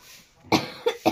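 A person with a cold coughs three times in quick succession, close and fairly loud, after a short quiet stretch.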